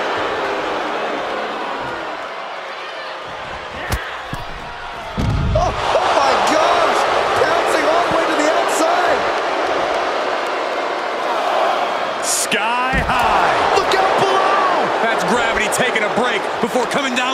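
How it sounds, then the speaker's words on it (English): In the WWE 2K24 wrestling video game, a dense arena crowd roars continuously with swells of cheering, heavy slam thuds on the mat punching through, and commentary talking over it. "And Nia is revving this crowd up"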